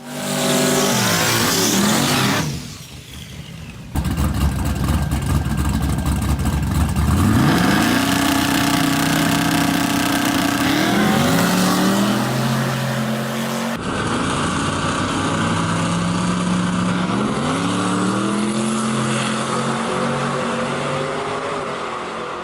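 A turbocharged street race truck with a turbo 400 transmission roars loudly up through the gears, the engine rising in pitch, dropping at each shift and climbing again, with no talk over it.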